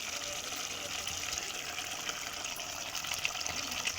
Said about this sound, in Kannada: ಸ್ವಲ್ಪ ನೀರು ಹಾಕ್ಕೊತೀನಿ.